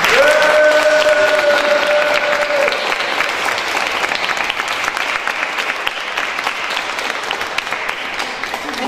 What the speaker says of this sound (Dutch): geef ze een fantastisch applaus